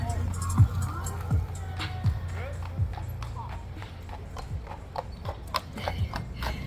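New York City carriage horse hooves clip-clop on pavement in an uneven, repeated rhythm, close and clear under a busy street background, with people talking nearby.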